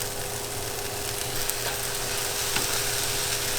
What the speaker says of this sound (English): he cooks it with some soy sauce and makes a stir fry with it